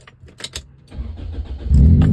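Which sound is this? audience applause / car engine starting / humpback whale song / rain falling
car engine starting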